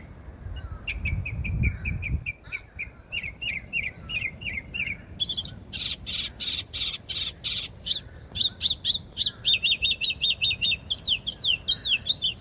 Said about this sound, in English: Noisy bird this morning.